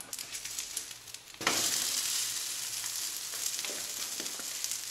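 Nutella French toast frying in a pan on medium heat, a steady close sizzle that swells suddenly partway through and then settles into a continuous hiss.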